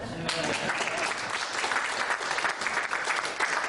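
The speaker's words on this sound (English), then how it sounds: "we should give Eugene another round of applause" An audience at a political event applauds a speaker's remark about Eugene, steady dense clapping filling the whole stretch at moderate volume, without any speech over it.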